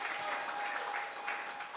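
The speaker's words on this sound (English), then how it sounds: "please give a round of applause" Steady applause from an audience at a boxing press conference, a dense continuous patter of clapping held at a moderate level for the whole moment, with no speech over it.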